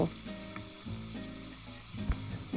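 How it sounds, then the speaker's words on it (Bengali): Shrimp coated in salt and turmeric frying lightly in hot oil in a pan, a dense close sizzle with faint crackles and a brief clatter near the end, no speech. "চিংড়ি মাছগুলো আমি একটু লবণ আর হলুদ দিয়ে মাখাই নিয়েছি এখন এগুলো হালকা করে ভেজে নিব"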